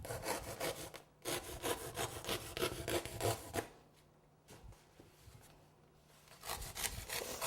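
A cake board is trimmed with a cutting tool, giving close rasping, sawing strokes in a few bursts separated by quieter pauses.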